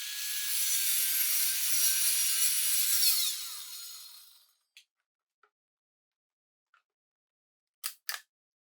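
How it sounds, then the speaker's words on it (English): Handsaw ripping a piece of wood lengthwise with a saw guide in a woodworking shop, giving a loud, continuous rasping stroke for about four seconds that fades out, then near silence broken by a few small clicks and two sharp knocks. "Now I can put my focus on ripping this piece of wood."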